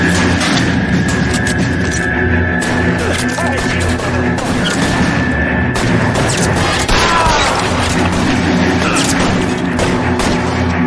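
Gunfire during a shootout in the L.A. Noire crime game, repeated loud shots and bursts over a dense, busy background of combat noise, with voices calling out among the shots.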